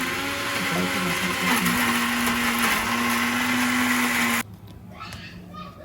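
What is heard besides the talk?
mixer grinder grinding red chillies for pickle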